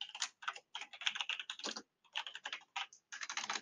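Rapid typing on a computer keyboard while entering C++ code, dense clusters of crisp key clicks in quick bursts separated by brief pauses, close and clear with no talking.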